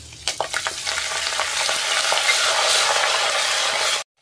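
Mustard seeds, cumin, dry red chillies and curry leaves hitting hot coconut oil, a burst of crackling pops followed by a loud, rising, continuous sizzle that cuts off abruptly.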